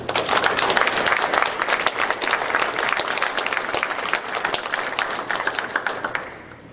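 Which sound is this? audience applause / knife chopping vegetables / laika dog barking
audience applause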